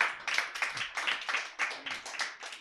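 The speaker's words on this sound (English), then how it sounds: "Give Jesse and Stab a round of applause if you can." Clapping from a small audience at a LGBTQ+ comedy show, a handful of close, distinct hand claps in a steady, slightly uneven rhythm, fairly sparse rather than a full crowd.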